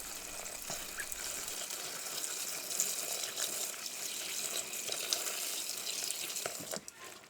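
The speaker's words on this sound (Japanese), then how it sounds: "たっぷりめのお水でよく洗っていきます。" Morels are washed in a bowl filled with plenty of water, producing continuous splashing and sloshing close by with no talking.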